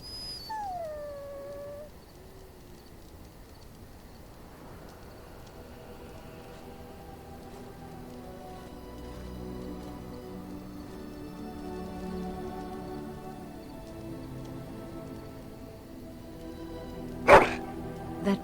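A dog in the Dragon Age Origins video game whimpers and howls at length, faint and drawn out under soft game ambience, ending with a couple of sharper louder barks.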